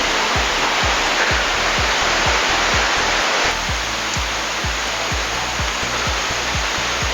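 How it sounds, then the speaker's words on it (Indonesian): A tall waterfall in a Simalungun rainforest roars as a steady, loud broadband rush of falling water, continuous and close, with low thumping footsteps as someone climbs the trail nearby. "Itu air terjunnya cukup tinggi."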